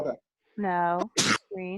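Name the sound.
sneeze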